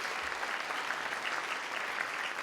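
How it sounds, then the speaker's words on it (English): An indoor lecture audience claps steadily for presenters at the close of an evening talk on Alzheimer's disease research, a dense, even wash of many hands with no voices over it. "So we could have a final round of applause just for the presenters."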